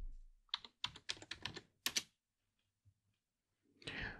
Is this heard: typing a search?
yes